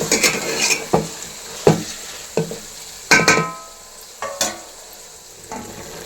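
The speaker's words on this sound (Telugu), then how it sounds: "ఆ చికెన్ అయితే ఇందులోకి వేసుకుంటున్నానండి ఈ మిశ్రమాన్ని అంతటిని ఒకసారి బాగా కలుపుకోవాలండి" Chicken fries with golden onions in a pan under a steady sizzle, while a spoon scrapes and knocks against the metal in a series of sharp, irregular stirring strokes, close and loud, with no talk.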